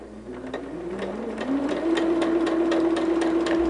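A sewing machine with a special presser foot stitches quilt pieces for a barn star sampler with a quarter inch seam, its rapid steady needle chatter and motor hum rising in pitch as it speeds up, close and alone.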